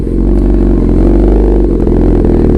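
A Kawasaki ZX-10R big bike motorcycle riding near Hua Hin, with a steady, loud engine drone close by and no break for the whole short stretch.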